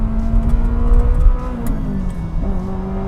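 Ferrari F355 GTS engine threads through a bend, a loud close-up mechanical drone that eases, shifts pitch and picks up again with a rising rev near the end.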